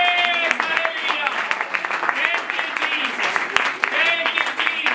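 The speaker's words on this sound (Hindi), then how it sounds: "जोरदार तालियां बजाएं।" A church congregation breaks into loud applause, brisk claps ringing out while voices call out and sing over the clapping.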